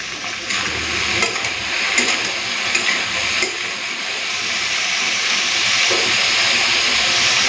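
Potatoes and ivy gourd fry in hot oil with turmeric and salt, a loud continuous sizzle with scraping stirs of a spatula in the pan, no talking.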